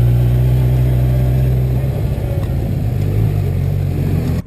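A 2020 Kawasaki Z1000 liter-class naked motorcycle drones steadily and loudly while being ridden. The engine note stays mostly constant throughout, with a slight shift partway, and no voices are heard.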